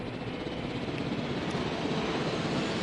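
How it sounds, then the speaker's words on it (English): Helicopters flying in the video game Jurassic World Evolution, a continuous broad rotor and engine roar filling the whole stretch at an even, moderate level with no talk. "We've already got a lot of helicopters in the sky already"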